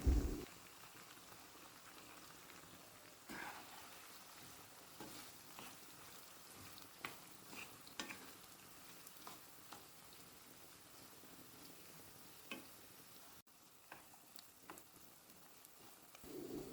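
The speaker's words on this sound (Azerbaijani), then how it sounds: "Ardından isə üzərinə kub-kub doğramış olduğum soğanı əlavə edirəm." Diced onions with a little salt fry in a pan with meat and mushrooms, giving a steady, quiet, crackling sizzle throughout with occasional brief louder pops and no voices.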